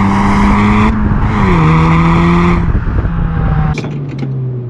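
Stock Audi S1 Quattro accelerating hard in second and third gear, a loud close engine note rising through gear changes with tyre squeal, ending in a few sharp clunks.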